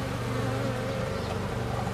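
Dense, continuous buzzing of many robber bees close by, a steady droning hum without pause.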